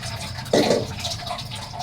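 Weak kitchen tap water trickles into a sink while dishes are washed at home, a short splashy burst of running water that settles to a soft steady flow, with no talking.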